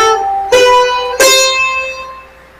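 Three sustained, resonant tones are struck one after another, each ringing with rich overtones and slowly fading, forming the opening steps of a major scale.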